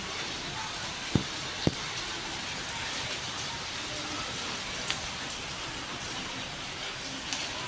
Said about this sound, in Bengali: দেখো এখানে বৃষ্টি শুরু হয়েছে, জোরে বৃষ্টি পড়ছে।